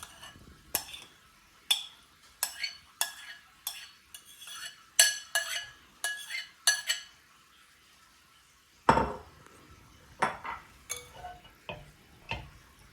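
Pomelo salad is tossed in a bowl, giving sparse, crisp clinks and taps of a utensil against the dish in irregular bursts, close and fairly quiet, with pauses between strokes.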